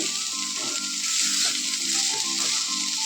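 Thor, a banana stem fry, sizzling in oil in a pan with a bright, steady hiss and a softer rhythmic bubbling underneath, close and fairly loud without any voices.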